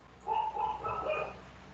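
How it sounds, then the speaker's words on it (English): Dogs bark and yip faintly in the distance, a short run of several quick barks in the background of a quiet indoor room. "I can hear our dogs."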